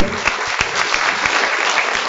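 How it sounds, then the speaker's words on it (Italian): Loud, dense applause from the audience at a literary prize award ceremony, a continuous wash of clapping with a few sharper claps standing out. "Un applauso forte."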